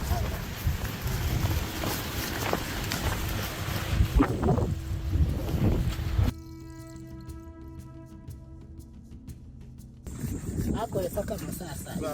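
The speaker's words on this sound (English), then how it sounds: "The wind shifts, blowing strongly from the west, carrying the scent of dry dust and damp earth." Strong wind gusts over open African grassland during a hunt, a loud broad roar with microphone buffeting, dropping to a quieter stretch with faint tones before the rush returns.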